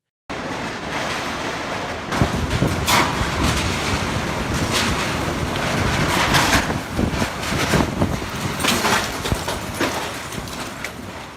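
Typhoon wind roaring across the Guangdong coast with heavy ocean waves crashing, a loud continuous rush of gusts and surf buffeting the microphone with no voices.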